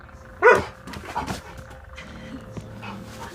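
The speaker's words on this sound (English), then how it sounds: "it looked up at the roof and started barking again" A house dog barks loudly up toward the roof, one sharp close bark followed by a few softer yips and panting that fade into quieter room noise.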